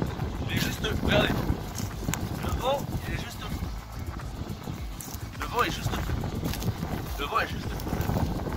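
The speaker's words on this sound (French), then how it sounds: "Ah bah Théo, vous imaginez même pas le vent, je sais pas si vous entendez le vent." Strong coastal wind at Honfleur buffets the microphone in rough gusts while a person talks over it, the roar steady throughout.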